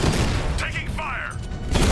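Gunfire in the video game Batman: Arkham Knight, bursts of loud shots and booms at the start and end, with game voices and effects in between.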